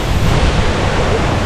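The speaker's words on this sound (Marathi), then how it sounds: "धबधब्याचा फ्लो देखील बघा दिसतो आपल्याला, खूपच सुंदर आहे." A waterfall in Kolhapur district pours steadily, giving an unbroken, loud roaring rush of falling water with no voices.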